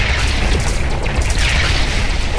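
Explosions and booming blasts from the shoot-'em-up game Sky Force Anniversary, with tanks, bombers and missiles on screen, form a dense, continuous roar of overlapping bursts at steady high loudness with no talk.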